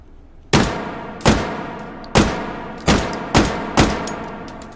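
Six sharp gunshots from a 1970s-style DAT ASP pistol in the H3VR virtual reality shooter, fired one at a time at a steady pace of roughly one shot per second, each loud crack trailing off into a short echoing decay.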